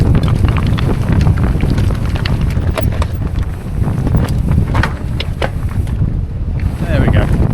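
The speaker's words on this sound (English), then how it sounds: "Oh, one hell of a headwind." Strong headwind buffeting the microphone on a ridgeline descent at The Gap in the Brecon Beacons, a loud continuous roar with gusty low rumble and scattered rattles.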